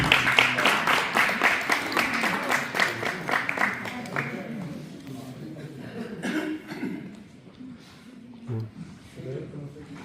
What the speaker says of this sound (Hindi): अनवर बीबी साहिबा के लिए बहुत सी तालियां दी।